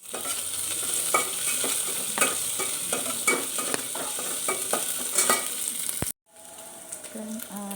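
Onions for kadala curry frying toward golden brown, a loud continuous sizzle with repeated stirring scrapes for about six seconds, then a brief cut before a quieter sizzle resumes with faint clinks.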